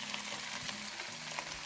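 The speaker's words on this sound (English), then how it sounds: "now we're going to put the sausage into it." Chorizo sausage added to a pan of browned onion frying for jambalaya, a steady close sizzle with soft stirring scrapes, no talking.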